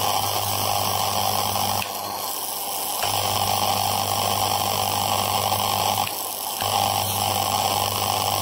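A circular plasma railgun with stacked electromagnets and a large copper central electrode hums and buzzes loudly once switched on, a steady electrical drone broken by a few brief dips.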